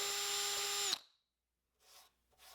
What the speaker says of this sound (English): I used a drill bit to elongate the 2 outside dowel holes